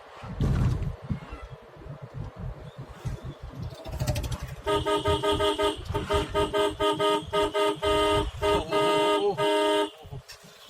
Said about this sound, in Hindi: हर तरीके की गाड़ी है रोड पे।